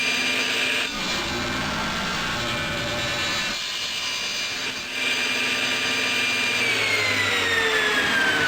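A saw cuts mitered salvaged wood for a picture frame, a loud, steady motor whine with brief dips as the blade bites, then rising and falling in pitch toward the end. No voices are heard.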